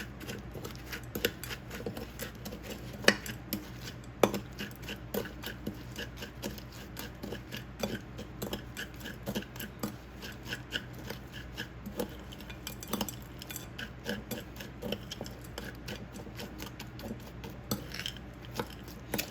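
Cake mix and butter are worked together in a bowl for a peach cobbler topping, giving a steady, close, gritty scraping and rasping with rapid irregular strokes running throughout and no talk.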